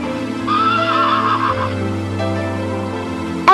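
The legendary horse Nike lets out a loud, close neigh, a high wavering whinny over a steady low background, which ends in a brief sharp sound.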